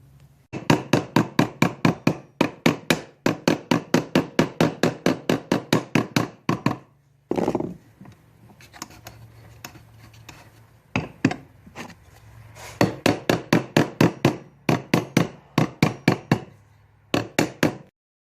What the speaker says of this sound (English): Now I'm doing that with the hammer because it's the easiest.